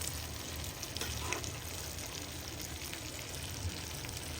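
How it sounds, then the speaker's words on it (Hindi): Dal poured into a hot tadka in a pan, giving a steady close sizzle and crackle of frying with faint stirring, moderately quiet and unbroken, with no talking. "अब हम इसमें कर लेंगे दाल ऐड।"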